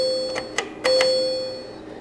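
A very simple PCM bell tone from a PIC-based terminal circuit sounds, a steady electronic tone overlaid with a few sharp clicking chimes, near and moderately quiet, with no talk.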